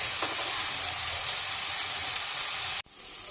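Leafy greens stirred and fried in a pan for a vegetable stir fry, with a steady close sizzle and hiss that cuts off abruptly near the end.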